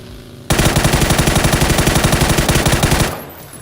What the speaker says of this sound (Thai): ผมยิงเปิดจุดละ